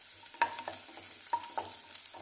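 Chopped garlic fries in oil in a pan, with a soft steady sizzle and a few sharp clinks and scrapes of stirring repeating through the short stretch.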